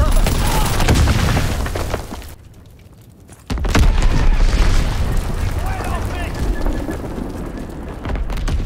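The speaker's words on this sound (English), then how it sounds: "Enemy bomb incoming. Get to cover." Enemy bomb explosions in the video game Call of Duty: WWII, loud rolling booms and bursts of gunfire, with a brief dip before another heavy blast and continued battle noise.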